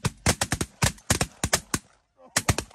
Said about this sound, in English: Shoot him, guys!